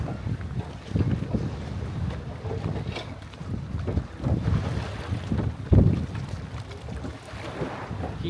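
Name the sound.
breeze blowing near a lake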